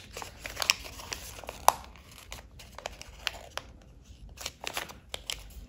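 Paper being folded and pressed flat for origami, with soft crinkling and rustling close by throughout and a few sharper creases, heard faintly with no talk over it.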